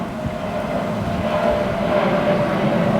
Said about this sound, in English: Sounds like we have a plane coming in here, so bear with me.